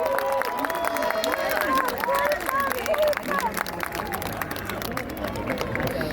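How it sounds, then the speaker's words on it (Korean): A crowd at an election campaign rally outside Pyeongtaek Station claps and cheers, with steady applause and shouts under a loud amplified voice. "힘찬 환호와 응원의 박수 부탁드리겠습니다"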